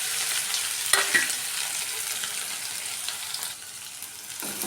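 Spice paste with cumin frying in hot oil and being stirred, a steady close sizzle with a couple of sharp utensil knocks against the pan.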